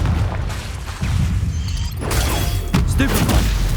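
Confringo explosive spell in Hogwarts Legacy bursts with a crashing blast, followed by further booming hits amid game noise, with a voice speaking over it.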